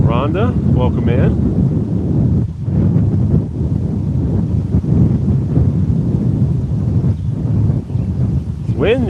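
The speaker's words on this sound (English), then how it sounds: "It's windy, you're gonna need to go ahead and calm down now." Strong wind buffets the microphone in a steady roar, with a person talking over it throughout.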